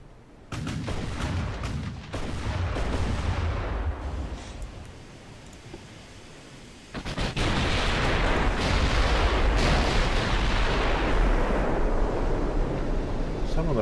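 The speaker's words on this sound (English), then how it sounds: "The 8-inch guns are joining in on the fire" Naval gunfire from 8-inch guns in the warship game Ultimate Admiral Dreadnoughts, a loud rumbling salvo followed by a quieter spell and then another sustained booming barrage, with a voice talking over it.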